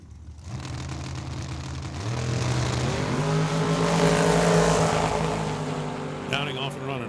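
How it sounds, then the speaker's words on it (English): Drag racing car engine roaring at Tucson Dragway, a loud sustained rising howl with the pitch stepping up through gears over several seconds, close and dominant throughout. "Dragster trying to pull up alongside him."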